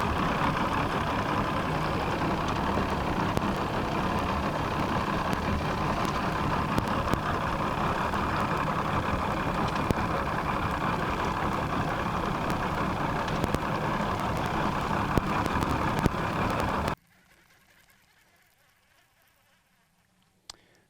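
A fishing boat's outboard motor drives off a point across a lake, a steady, close buzzing drone that runs unbroken for about seventeen seconds, then cuts off abruptly into quiet.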